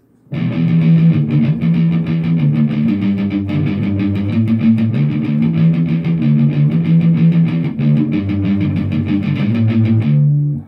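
Palm-muted guitar plays the verse riff of P.O.D.'s "Boom", a loud, thick, chugging rhythm of tight repeated notes that continues without pause and with no talking.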